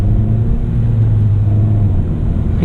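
The engine of a 2017 Honda Civic Si drones and rumbles loudly from inside the cabin as the gas is pressed, a steady low roar with no voices.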